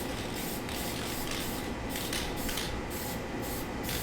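Aerosol spray paint hisses in a steady continuous stream for airbrush-style neon light art, with a few brief pulses of stronger spray over the constant broadband rush; no one speaks.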